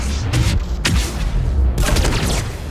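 Shotgun blasts aimed at a Geth Prime in Mass Effect 3, two or three loud booming shots in quick succession with crackling tails, close and dominant.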